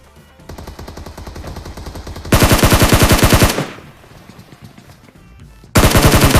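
Automatic weapon fire in PUBG, a quieter sustained burst followed by a much louder close rapid burst, a short lull with softer shots, then another loud burst at the end.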